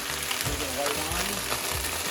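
Green beans sizzle steadily in a hot pan over medium-high heat just after a splash of white wine goes in, a dense continuous hiss with low voice-like murmurs underneath.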